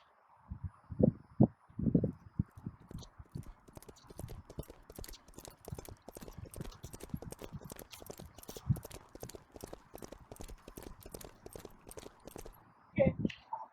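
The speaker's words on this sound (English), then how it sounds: "I wonder why my horse is walking in circles." A horse walking in circles makes a steady, continuous clip-clop of hooves, with louder thumps near the start and end and a voice talking over it.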